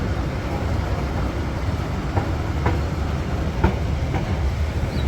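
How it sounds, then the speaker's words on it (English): Passenger train running through heavy rain from Dong Hoi to Da Nang, Vietnam, with a continuous loud rumble and scattered clicks of wheels over rail joints, heard up close without talk. "Train is literally like wading through water just about."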